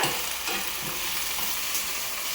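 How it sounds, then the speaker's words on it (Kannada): Onions frying in a pan give off a soft, even sizzle with faint stirring noises, close by and fairly quiet over a short stretch. "ಈರುಳ್ಳಿ ಚೆನ್ನಾಗಿ ಫ್ರೈ ಆಗಬೇಕು"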